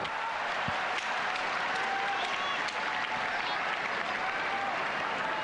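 Sumo crowd at the Kokugikan in Tokyo claps in sustained, even applause, a dense wash of hands filling the arena with faint commentary underneath.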